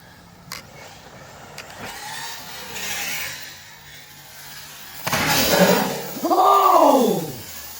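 A HoBao Hyper MT Plus 2 RC monster truck revs and whines past on a dirt back track, starting faint and distant, then rising into loud, close motor surges with pitch sweeping up and down near the end.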